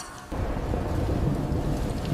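A thunderstorm in a narrated English-listening story about a beach rescue: a deep rumble of thunder swells in after a brief pause, over a dense wash of heavy rain, loud and continuous.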